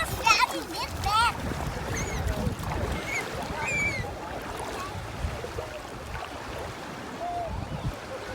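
A child swims and splashes in the sea off Denmark, water slapping in short bursts up close. A voice and an adult's talk carry over the steady surf.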